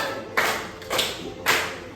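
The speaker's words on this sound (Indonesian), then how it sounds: "Boleh sambil tepuk tangan ya semua." Three hand claps, spaced roughly half a second apart, from a teacher leading a standing second-grade class, crisp and close in a small room.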